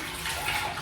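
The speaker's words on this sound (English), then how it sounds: "I'm gonna pour it into a bowl." Hot water splashes steadily into a bowl for just under a second, a close, continuous pouring rush heard alone.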